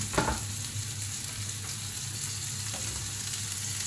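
Tomatoes fry in a pan for sautéed string beans, a continuous close sizzle with a sharp clatter at the start and a faint scrape later.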